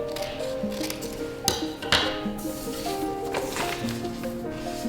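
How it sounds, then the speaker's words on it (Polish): Scissors cutting paper along an edge during a children's Easter bunny craft, with a few crisp snips over a steady background of music. "Równiutko przy krawędzi obcinamy nożyczkami."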